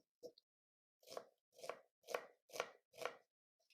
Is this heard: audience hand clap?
no